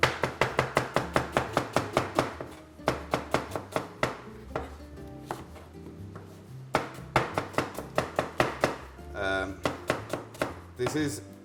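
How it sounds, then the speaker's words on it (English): A knife slices onions on a cutting board in a home kitchen, producing a long run of fast, crisp, rhythmic chops close to the mic, broken by brief pauses and a short scraping sound. "I'm going to cut, slice few onions"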